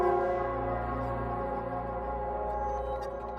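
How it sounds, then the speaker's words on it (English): A large church-style bell tolls in the game Wuthering Waves, a sustained, resonant ring with long humming overtones, steady and loud throughout with no voices over it. "It's the bell."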